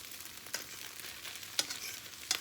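Spinach wilts in a buttered pan, giving off a quiet, steady sizzle with a few soft stirring scrapes and light clicks spaced across the moment.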